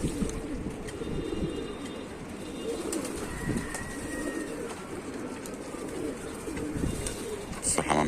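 Pigeons in a loft coo continuously, several birds overlapping in a low rolling murmur, with a brief flutter near the end and faint voices in the background.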